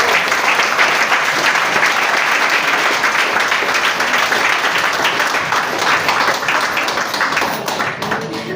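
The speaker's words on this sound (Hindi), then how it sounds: "मैं सभी मेंबर से गुजारिश करूंगा कि जोरदार तालियों से स्वागत किया जाए।" Loud, sustained applause from members welcoming an MLA guest at an organization's program, a dense steady wash of many clapping hands that holds for the whole stretch and eases slightly near the end.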